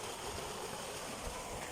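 Irrigation water flows down from a mountain in a strong stream, heard as a steady, broad rushing roar with no breaks, fairly faint overall.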